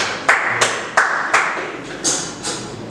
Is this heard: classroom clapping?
yes